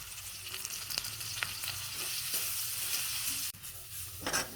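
Green peas frying in a pan with green chilli and ginger on low heat, giving a steady close sizzle with a few light stirring scrapes and knocks, no talking.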